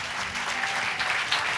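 A church congregation at a Sunday service claps together in a dense, lively burst of close applause that carries through the whole moment.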